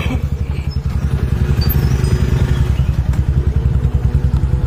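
A motorcycle pulled up and idling near a hillside cave site, its engine a steady, close, loud putter with rapid rhythmic thumps for the full stretch and no talking.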